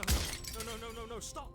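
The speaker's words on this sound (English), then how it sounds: "it's the sound of breaking glass" Glass shatters in the game Slay the Princess with a sharp crash near the start, then a bright crystalline ring, while a voice shouts over it.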